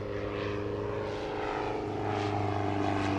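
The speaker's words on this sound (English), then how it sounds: "You need to put that airplane on the ground." A propeller airplane flying a comedy aerobatic routine at the 2015 Abbotsford Airshow, its engine droning steadily and loudly with a rising and falling buzz, with no talking.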